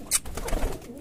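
Pigeons being fed millet and wheat give a brief, soft coo at close range, with short low murmuring notes and a faint rustle, all within about a second.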